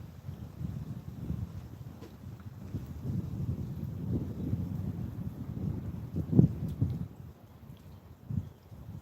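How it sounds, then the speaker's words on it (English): Wind gusting across Roanoke Rapids Lake during a fishing trip, a steady low rumble buffeting the microphone with stronger gusts swelling near the end, heard alone without talk. "I think the wind blowing harder."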